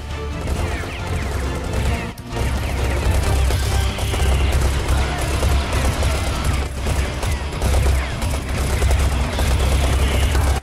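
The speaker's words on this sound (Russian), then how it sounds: "Стреляем и не прекращаем стрельбу." Gunfire from Serious Sam 4 rattles in dense bursts and crashing impacts, loud and nearly continuous with only brief gaps, chaotic shooter combat with no voices over it.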